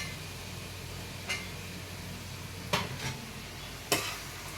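Freshly picked whole okra frying in a pan for a fish curry, with a steady low sizzle and a few sharp scraping clicks as the pods are stirred.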